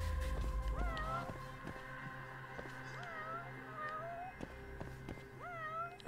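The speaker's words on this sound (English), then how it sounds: "there's so many fucking cats meowing right now." Many cats meow over and over in the video game Judgment, with several overlapping rising and falling meows at a steady, moderate level above a low background hum.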